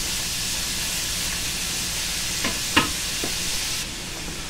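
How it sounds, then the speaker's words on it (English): Sausage sizzles in a pan with a steady broad hiss, broken by a few soft stirring clicks and scrapes near the middle. "we put the sausage in here first. It's been cooking the whole time."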